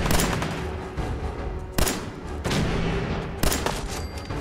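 Gunfire in the PC game Fallout 4: three sharp, loud shots spaced about a second apart, each with a short ringing tail, over a steady background of game ambience.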